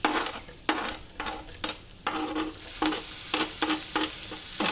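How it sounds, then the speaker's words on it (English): Garlic and ginger fry in melted butter over a very low flame. A continuous close sizzle is broken by repeated stirring scrapes in an uneven rhythm. "once the butter is melted, you need to add garlic and ginger"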